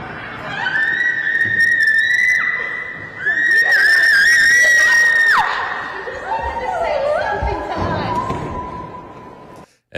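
A woman screams as she is dragged out of a governor's office: long, shrill, wavering cries rise and fall over roughly ten seconds, with crowd commotion and whistle-like tones underneath before it cuts off abruptly.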